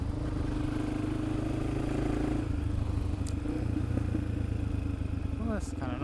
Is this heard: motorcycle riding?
yes